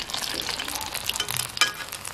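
Slices of brinjal frying in hot oil in a wok, a steady close crackling sizzle with scattered sharper pops and spatters, no voices.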